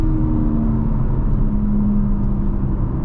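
A 2022 BMW M4 Competition coupe under hard acceleration, heard from inside the cabin as a steady, loud low engine drone and road rumble with a faint rising tone, no voices.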